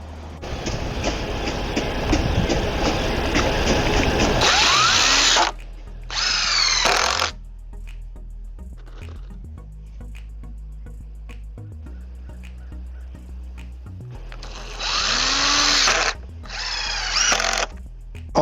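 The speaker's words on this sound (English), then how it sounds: "on the inside into the this top stringer here, and I'll be putting 1-inch screws in the back." A power drill drives screws into the top stringer of a wooden garden bridge in several loud, whining bursts of a few seconds each, with quieter gaps between where handling and faint background sounds carry on.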